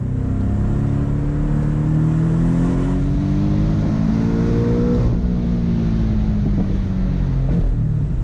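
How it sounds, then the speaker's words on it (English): Porsche 718 Boxster GTS engine and exhaust in Sport Plus mode, loud and close, revs rising and falling through S-turns with a throaty exhaust roar and wind rush, no talk. "We're gonna do it in Sport Plus mode. So we have the more sensitive throttle, the exhausts on full blast."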